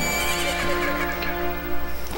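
A horse in the video game The Legend of Zelda: Majora's Mask lets out a loud, drawn-out whinny with a steady tonal quality that fills the short moment.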